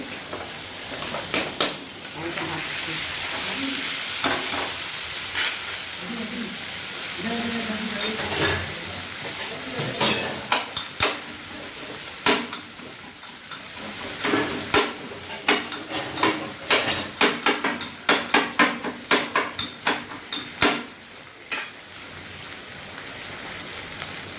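Onion and dal frying in a pan crackle with a continuous sizzle, punctuated by frequent scraping and knocking as they are stirred, closer and busier toward the end, with no talking.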